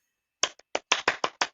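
A small group claps in a quick, uneven burst of about seven sharp claps, starting after a brief pause. The clapping is close, moderately loud and heard alone with no talking.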